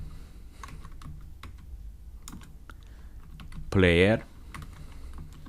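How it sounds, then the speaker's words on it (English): Code is typed on a computer keyboard: soft, quick key taps scattered through the clip, with a brief spoken word partway through. "so I'm gonna type here"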